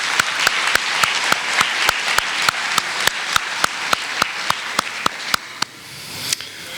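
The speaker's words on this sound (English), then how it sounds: "let's all give them a round of applause" An audience claps for speakers at a 2025 champions night awards event, a sustained wash of applause with sharp individual claps evenly spread, fading toward the end.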